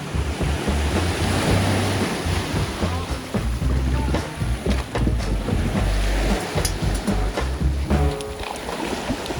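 Surf and wind fill a quiet beach anchorage in the Bahamas, a steady, loud wash of breaking waves and gusts over a low rumble, continuous throughout with no voices.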